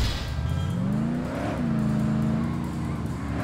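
A car in The Godfather Don's Edition video game on PS3 drives off, its engine revving up in rising, wavering pitches as it accelerates, close and prominent.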